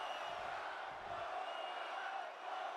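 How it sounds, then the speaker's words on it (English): Wrestling arena crowd in WWE 2K22 giving a steady, distant roar of cheering that stays even throughout, with no single standout shout. "And the crowd wants another one."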